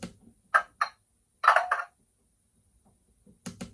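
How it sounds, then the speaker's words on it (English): A model train sound decoder plays a few short metallic clanks in two quick bursts, a pause, then one more clank, like locomotive buffers knocking together, fairly close and with no talking. "we've got locomotive buffering on function 24."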